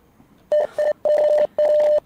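Morse code beeps in the psychological horror game Rise of Insanity: a clear, close electronic tone sounding in short and long pulses, a few dots and dashes in an irregular rhythm with no talking.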